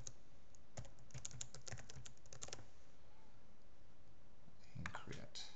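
Fingers type a password on a computer keyboard, a quick burst of light, close key clicks followed by a pause and then a second short flurry of taps, with no talking.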